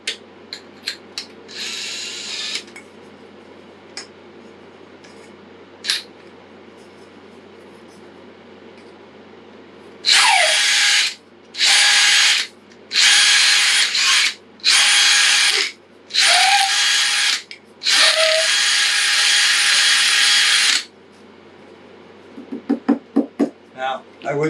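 A power reamer widens the hole in a rod handle for a C6O2 rod build, whirring in a rapid series of loud bursts with brief gaps, preceded by quieter clicks and handling and followed by light rattling.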